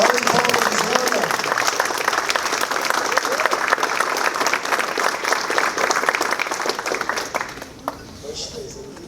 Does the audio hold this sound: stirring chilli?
no